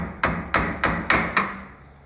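Soft hammer striking the metal part of a motor mount during an FJ60 motor mount install in an FJ40: five dull, evenly spaced thuds close by, with no talk.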